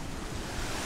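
Ocean waves on the Surigao shore in Mindanao, a continuous, full roar of surf mixed with wind rumble on the microphone. The sound is loud and unbroken, with no talk.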